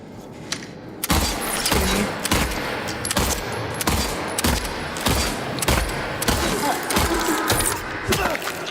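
Rapid, loud gunfire in Silent Hill 2 Remake rings out close, roughly every half second over several seconds, each shot a sharp crack with a short tail.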